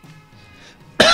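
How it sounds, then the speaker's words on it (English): A single sharp cough bursts out at the very end after a near-silent stretch, loud and close, from a player with a lingering cough. "I still have a bit of a cough, actually a lot of a cough"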